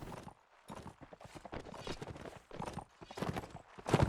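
Heavy horse hooves in a strategy video game, a run of rapid clip-clop beats in uneven bursts with brief pauses, fairly faint and close, with no talking over them.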